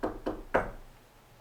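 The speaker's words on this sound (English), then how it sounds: "I'm gonna knock on something." Three sharp knocks on a surface in a quiet hotel bathroom, evenly spaced about a quarter second apart, the last one loudest, followed by near silence.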